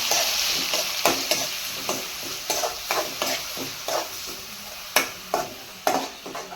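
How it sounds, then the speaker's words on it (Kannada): Large onions sizzle in a pan as they are stirred, with a steady frying hiss under a regular series of close utensil scrapes. No one speaks. "ಸೊ ಈಗ ನಾನು ಇದನ್ನು ಆನಿಯನ್ಸ್ ಹಾಕ್ತಾ ಇದ್ದೀನಿ"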